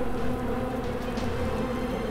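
A swarm of flies in the video game Blackguards 2 gives off a steady, dense buzzing drone that holds evenly throughout, close and unbroken, with no talk.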